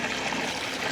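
Public drinking water fountain in Vatican City, a steady close stream of running water that flows without a break for under a second.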